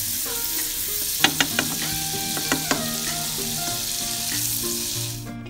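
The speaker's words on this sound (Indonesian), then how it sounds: "ini kita aduk-aduk sampai karamel di gulanya itu juga jadi ada gitu ya" Sugar caramelizing in a pan is stirred steadily, with a continuous soft sizzle and a few sharp scrapes and clinks of the utensil against the pan, close up with no voices.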